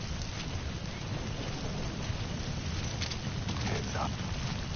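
Steady rain pours in Metal Gear Solid V: The Phantom Pain, a dense continuous hiss with low rumble filling the scene, and no voices over it.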